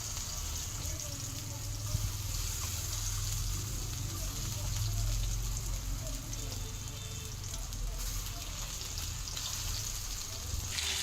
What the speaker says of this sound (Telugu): ఆయిల్ హీట్ ఎక్కిన వెంటనే చేపలు ఫ్రై కండి